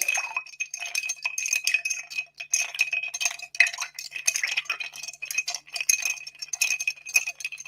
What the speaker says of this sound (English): A little bit of cocktail ASMR of clinking ice.